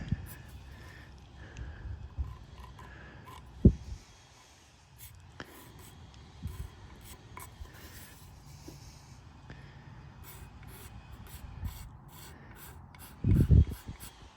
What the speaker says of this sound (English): take a razor blade, scrape those areas